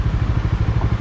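Close, loud and steady idle of a Bajaj Dominar 400 motorcycle engine, a deep rhythmic thump repeating evenly with no voices.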